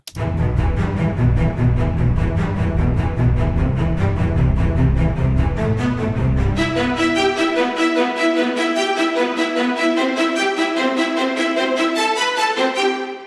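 Orchestral strings from the Audio Imperia Nucleus sample library play steady, driving repeated notes, a low rumbling section giving way to bright, rapid higher figures. Loud and full, with no speech.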